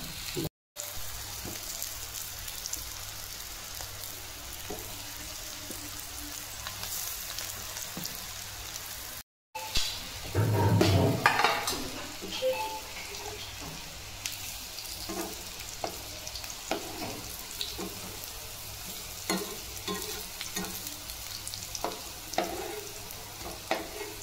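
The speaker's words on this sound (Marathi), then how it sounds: "मी आता हे कटलेट त्याच्यामध्ये ठेवते आहे" Beet cutlets shallow-frying in a little oil in a pan make a constant close crackling sizzle, with a brief louder burst and clatter as pieces are placed, then an even spatter continuing.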